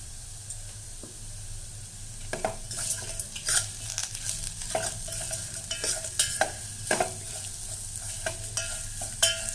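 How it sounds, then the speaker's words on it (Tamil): Garlic and spices fry in oil over a low flame for garlic rasam, a soft continuous sizzle broken by frequent clicks and scrapes of a spoon stirring against the pan. "தீ கம்மியாக போட்டு இதை வறுக்கணும் இல்லைன்னா தீஞ்சிடும்"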